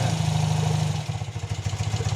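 BMW police motorcycle engine, one of the series 5, 6 or 7 administration bikes, running close by: a steady low drone that shifts into a lumpy, pulsing idle with a regular throbbing beat.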